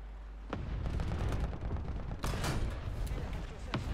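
Heavy tank cannon fire and battle noise trade back and forth in a War Thunder match, with sharp booms over a steady rumbling background and a speaking voice on top.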